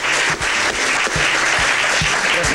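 A TV studio audience applauds loudly and steadily on a Lima talk show after a Chilean band appears, with dense continuous clapping and a few low thumps, no voices.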